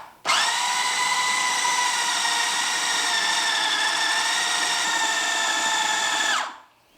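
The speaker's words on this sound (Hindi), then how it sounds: "ये 7 चम्मच भुना हुआ बेसन हमारे ग्राइंडर में जाएगा सब कीमे के साथ।" An electric grinder runs on minced mutton with roasted gram flour, a loud, steady high-pitched motor whine that starts abruptly, holds for about six seconds and winds down at the end.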